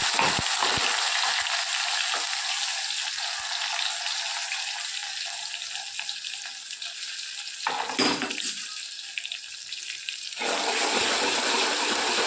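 Spices, tomatoes, ginger, garlic and green chillies roasting in a hot pan with a steady loud sizzle that briefly spikes and dips, with occasional stirring.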